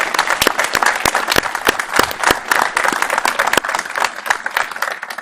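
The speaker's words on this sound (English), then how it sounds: "Let's give them a round of applause." Audience applause for fire academy instructors at a Battalion 151 graduation ceremony, loud and steady with sharp individual claps standing out through the dense crowd clapping, no talking.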